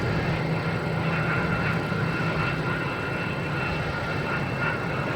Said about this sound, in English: we have an American Airlines coming in on 4 right